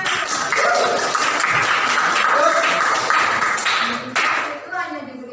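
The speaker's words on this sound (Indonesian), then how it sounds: "Kasih tepuk tangan" Clapping in a classroom rises briefly amid overlapping voices, a dense patter of hands that fades out after a few seconds.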